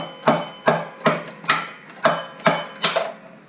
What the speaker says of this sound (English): Smack it with a hammer or a hatchet.